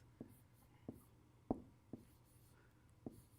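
A pen squeaks across a board in five short, separate strokes with gaps between them, faint and alone with no talk over it, the ink catching and skipping as the pen fails.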